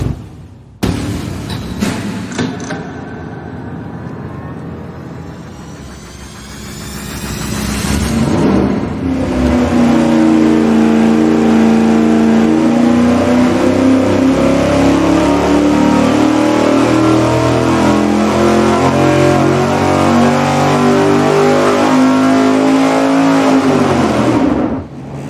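An engine on a dyno during cam timing tests starts with a few sharp clicks, idles, then climbs into a long, loud, sustained pull with rising pitch before cutting off abruptly near the end.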